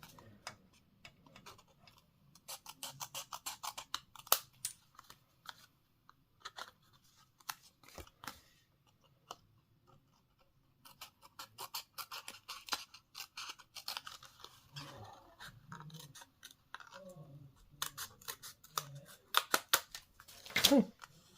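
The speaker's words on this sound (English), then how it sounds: "So when you cut this, just make sure you're cutting inside the rectangle just a little bit." Scissors cutting cardstock for a handmade card, repeated crisp snipping clicks in irregular runs with pauses, close and quiet, with occasional soft voice sounds.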